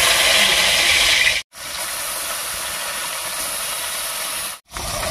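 Fish sizzling as it fries in hot oil for a Bengali fish curry, a bright, even crackling hiss that runs steadily and is cut by two brief silences.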